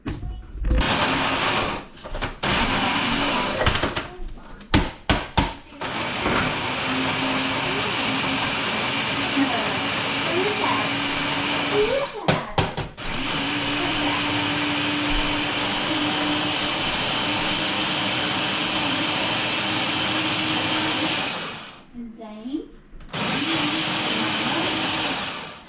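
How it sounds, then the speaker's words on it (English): A kitchen blender grinds salsa verde ingredients in a loud, steady roar that runs for long stretches, broken by a few brief stops. The motor pitch shifts as the mixture turns. "Now I'm gonna grind it up."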